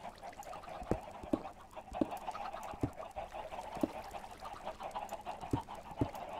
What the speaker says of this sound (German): Wir nähern uns der Hühnerfarm, wie man genau hört.